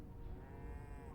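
Cows in the video game Hytale lowing in a low, drawn-out moo that is steady and moderately loud, with no talking over it.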